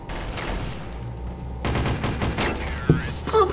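Light machine gun fire in Counter-Strike: Source, with rapid rattling bursts and a loud crackle of shots against a busy backdrop of game sounds.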